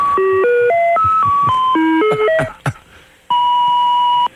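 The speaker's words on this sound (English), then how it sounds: "I don't think Jesus would have a lame answering machine like this." A cheap home answering machine plays a run of stepped electronic tones, then gives a long, steady, loud beep after a brief pause. No one speaks over it.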